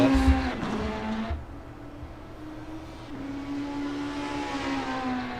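A 1995 touring car laps Road Atlanta in a racing video game, its engine droning steadily with rising and falling revs and a brief squeal early on, running alone without voices.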